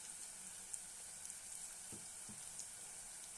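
Ginger garlic paste frying with onions in a pan for fish curry, a faint, steady sizzle with a few soft stirring bumps near the middle, no voices.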